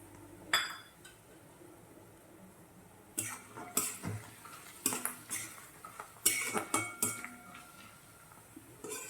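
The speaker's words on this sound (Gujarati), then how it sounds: "એક વાટકી જેટલા વટાણા લઈ લઈશું ને તેમાં નાખી દઈશું" Green peas tipped from a bowl into a pan of fenugreek greens, a string of close metallic clinks and scraping stirs in irregular bursts, with a faint sizzle between them and no voices.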